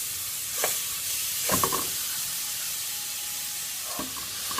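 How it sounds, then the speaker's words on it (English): Ground turkey and onion for a pepper and onion chili sizzling in a pan: a steady hiss of frying under a few soft stirring scrapes, with no talking. "we just added some onion to the ground turkey, letting it all kind of blend together here"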